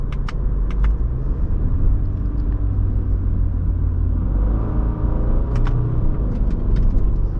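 Subaru Crosstrek Wilderness engine droning steadily from inside the cabin while driving in manual mode, a loud constant low rumble with a few faint light clicks and jingles above it, no talk.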